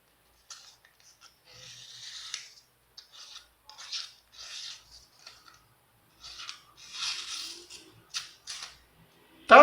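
A knife edge dragged lightly along a surface, held by two fingers with no weight, giving short quiet scraping strokes in separate bursts.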